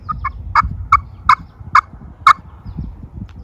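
Short, clear turkey yelps ring out one after another from a call played with a corncob and carbon-arrow striker, a couple of soft notes followed by five louder ones, close with no voices.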